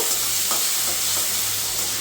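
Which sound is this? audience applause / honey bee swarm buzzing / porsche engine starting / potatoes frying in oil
potatoes frying in oil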